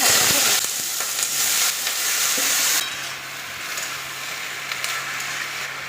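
Nigella seeds hitting hot oil in a wok, a loud burst of crackling sizzle that drops after a few seconds to a quieter, steady frying hiss with light stirring, close and without speech.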